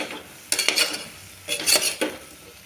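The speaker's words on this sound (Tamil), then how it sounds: "ஒரு ரெண்டு நிமிஷம் நல்லா வணங்கட்டும் அந்த மசாலா" Masala for sambar rice sautés in a pressure cooker and is stirred, with three distinct scraping, clinking sweeps of a metal spoon over a soft, close sizzle.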